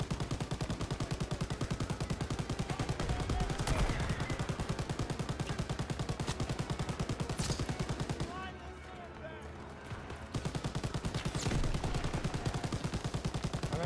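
Continuous, loud automatic MG42 machine-gun fire in the WWII shooter Call of Duty: WWII, a rapid buzzing stream of shots broken by a short lull near the end, with game battle noise around it.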